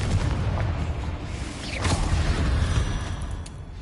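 The Confringo blasting spell explodes in Hogwarts Legacy, a loud rumbling boom with a whooshing burst in the middle over continuous low, noisy game sound.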